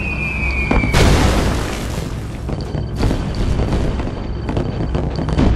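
A nuclear missile detonates in Red Alert 2 with a sudden heavy boom that cuts off a rising whistle, then rolls into a loud, sustained rumble with scattered cracks and distant thuds.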